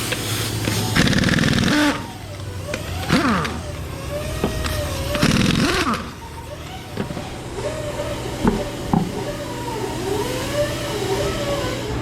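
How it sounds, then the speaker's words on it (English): Air chisel hammering on a bent Ram 1500 rear axle during collision repair, in rapid loud bursts of a few seconds each, mixed with shop noise and a running engine nearby. "A little bit of chisel action."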